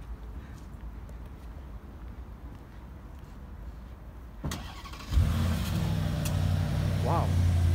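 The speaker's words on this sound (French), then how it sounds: "Le son de la Continental GT, vous allez voir que c'est un truc de fou." Bentley Continental GT engine firing up after a quiet idle stretch, a sharp start followed by a loud, steady near rumble that rises slightly in pitch, with a brief rev near the end.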